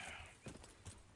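Horse hooves clip-clopping in Red Dead Redemption 2, a few distinct hoof strikes in an uneven rhythm over a soft steady background, fairly close and without speech.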